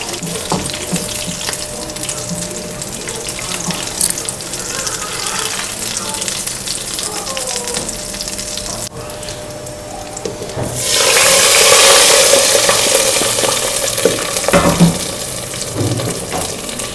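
Chillies fry in hot oil for sarson saag, a steady sizzle that swells sharply partway through into a loud, dense hiss, with clinks and scrapes of utensils over it.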